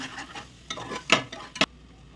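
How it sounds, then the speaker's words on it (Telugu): Dry spices, pepper powder, coriander powder and chicken masala, being stirred into a pan for a vegetable masala curry, with soft scraping strokes and two sharper clatters near the end, fairly quiet and close, no talking. "పెప్పర్ పౌడర్, ధనియా పౌడర్, చికెన్ మసాలా అన్నీ బాగా మిక్స్ అయ్యేలా కలుపుకొని"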